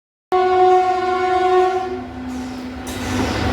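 At a railway platform in Deoghar, a train sounds a loud, sustained horn blast that starts abruptly, holds for about two seconds, then gives way to rolling rail rumble.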